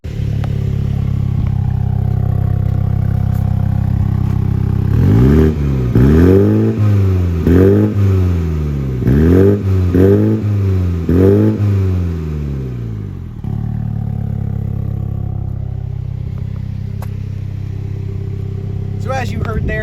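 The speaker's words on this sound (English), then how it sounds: "I'll rev it up to give you a little exhaust taste." Heard from behind the car, the exhaust of a 2022 Mini John Cooper Works Convertible idles, then barks through about six quick rising-and-falling revs in a row before settling back to a steady idle.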